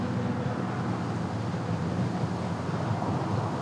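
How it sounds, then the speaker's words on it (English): Steady, roaring gale-force wind on a North Dakota golf course buffets the microphone with constant broadband rushing noise and a low rumble, loud and unbroken throughout. "Hurricane gale force winds out here in North Dakota."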